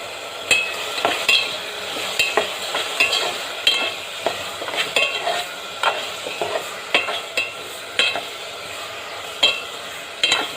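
Tomatoes cooking down in a pan with salt and turmeric, a soft sizzle under repeated rhythmic scrapes and taps of a spoon stirring against the metal, alone and close.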